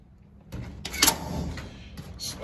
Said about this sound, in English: Opening up the door here.